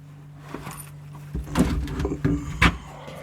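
Keys jangle and a switch clicks as the ignition is turned on inside a 2/5 scale Sherman M4A3E8 tank, followed by a few close clunks and rattles in a quiet interior.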